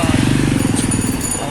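A motorbike engine putters with a rapid, even pulsing drone close by in a busy market, with a person talking over it.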